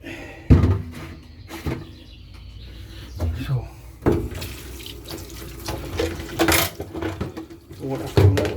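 A push-button tap runs water into a campsite sink in bursts, with clatter from dishes, nearby knocks and bumps, and a person talking close by.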